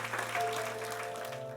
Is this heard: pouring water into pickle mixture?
no